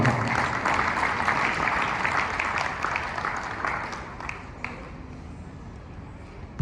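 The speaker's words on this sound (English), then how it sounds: "we should give her a very safe round of applause" Audience applause at a Lagos State tourism, arts and culture stakeholders' meeting, a broad wash of clapping that is strongest at first and gradually thins and fades over several seconds.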